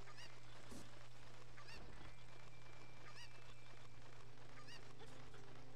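Cucco chicken in Zelda: Ocarina of Time squawking in repeated harsh honking cries, about four bursts spaced across the clip, over steady game background hum.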